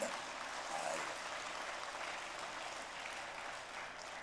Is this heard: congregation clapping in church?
yes